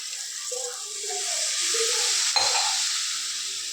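Water splashes and hisses into a hot pan of egg curry, a steady sizzling rush with faint voices over it.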